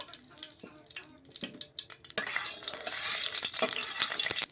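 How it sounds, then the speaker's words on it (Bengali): Oil heating in a hot wok on the stove, quiet kitchen clatter first, then a steady soft sizzle takes over for the rest, faint and without talk. "এরপর আমি তেল দিয়ে দিচ্ছি, তেলটাও ভালো করে গরম করে নেব।"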